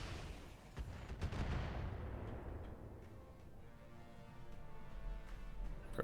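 Explosions rumble through a Battletech Roguetech mech battle, opening with a sharp blast and a heavy booming roll that slowly decays into lingering crackle and low rumble, without talk.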